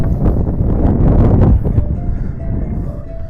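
Strong wind buffets the microphone outdoors along a slippery path near a village swamp, a loud, continuous low roar that surges and then eases slightly.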